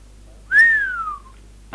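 A person whistles one clear sliding note close by that rises briefly and then glides slowly downward, followed by quiet.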